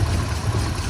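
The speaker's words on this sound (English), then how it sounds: "I got this misfire right here." A 2007 Toyota Tundra 5.7 V8 idling with misfires in several cylinders, a close, steady low rumble with an uneven, lumpy pulse through a brief stretch.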